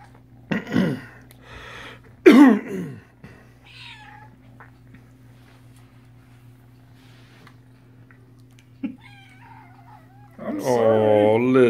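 A cat meows and yowls in short bursts, with a long loud caterwaul at the end, over a steady low hum and brief human voices.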